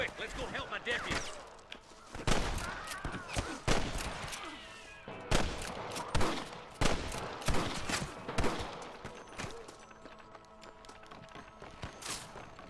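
Repeated gunshots in Red Dead Redemption during a shootout in Armadillo, a rapid, uneven volley of loud close cracks and thuds across the whole stretch, with voices mixed in among the shots.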